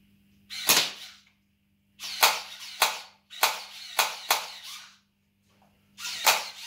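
An M-1911 gel blaster fires at targets: seven sharp, close pops, spaced irregularly with short pauses and a longer gap before the last shot, and no voices.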